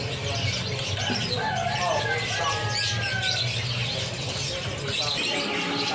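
Canaries chirp and tweet throughout a busy bird shop, bright trills layered over steady background noise while someone talks over them.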